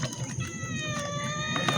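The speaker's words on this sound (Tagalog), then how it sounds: "Ang hihingi na yung pusa si Muningning." A pet cat named Muningning meows for food, giving a drawn-out, tonal cry that holds steady for over a second, close by and moderately quiet against faint background noise.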